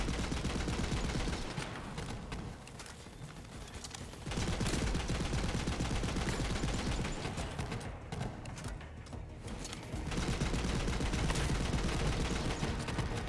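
Rapid turret gunfire in a Borderlands shooter game, dense bursts of automatic shots running almost continuously for about thirteen seconds, loud and close, with brief dips in intensity.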